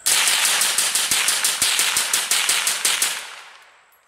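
An M4 rifle fires a rapid string of about fifteen loud, sharp shots at a bone outdoors, evenly spaced, before the final report fades into a ringing decay.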